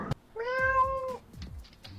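A person imitates a cat's meow with a single drawn-out, rising and falling mew, close and clear, followed by a few soft rustles and mouth sounds.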